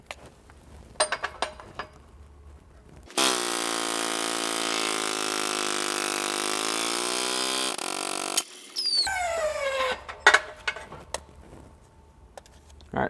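A bend tester's plunger presses into the face of a weld root test coupon: after scattered clanks and handling, a loud hydraulic motor drone holds steady for about five seconds, then a strained rising whine and metal clatter follow.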